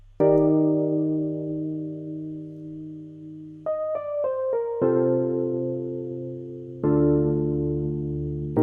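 Mellow electric piano playing sustained seventh chords, each held for a couple of seconds, with a short run of quick notes between them.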